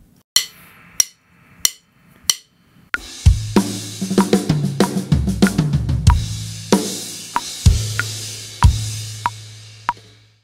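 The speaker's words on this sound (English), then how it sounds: "afterwards we're playing that fill-in and it sounds like this" Drum fill from a song, opening with a few sparse sharp hits counted in, then a loud dense run of snare and tom strikes with heavy low booms and cymbal crashes.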